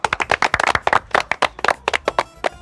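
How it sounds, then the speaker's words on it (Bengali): A small audience claps by hand to welcome their boss at an office gathering: a brisk, uneven burst of sharp, close individual claps over nearly three seconds, no voices over it. "আমাদের মাসুদ বসকে সবাই করতালির মাধ্যমে স্বাগত জানাই"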